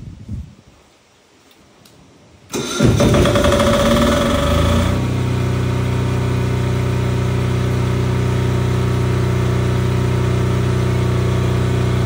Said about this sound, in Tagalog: So nawala ng kuryente, dapat mag-automatic yung ating generator.